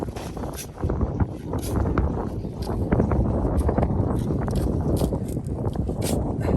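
Steady wind rumbles and buffets across the microphone outdoors beside garden soil beds in Northern California, with scattered light taps and rustles over the continuous gusting.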